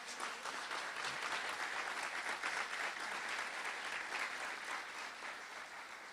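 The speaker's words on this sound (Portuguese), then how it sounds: "Será que você pode aplaudir ao Senhor bem forte?" Church congregation applauding loudly and steadily during a worship celebration service, a dense, continuous wash of clapping that holds for the whole stretch without any speech.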